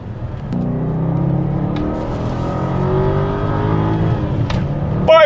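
A Porsche engine drones loudly and steadily as it revs and drives past nearby, with the pitch rising and falling and a brief sharp squeak near the end.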